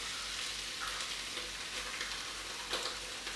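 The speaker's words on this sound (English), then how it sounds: "Okay, in goes the pumpkin puree" Pumpkin puree going into a risotto pot, a soft, faint sizzle and bubbling with light stirring scrapes and no voice over it.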